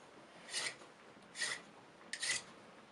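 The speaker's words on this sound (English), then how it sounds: "and file away" Three short, crisp rasping strokes of a hand file work a silver ring braced on a jeweler's bench peg, each scrape quiet, close and evenly spaced.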